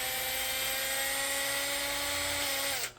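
A power drill whirs at a steady high pitch for nearly three seconds, close and loud, then spins down and stops.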